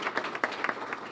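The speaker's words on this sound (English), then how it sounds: "Let's give them a round of applause." An audience at an awards event claps for standing members of the board, a brief, moderately quiet patter of applause with a few distinct hand claps.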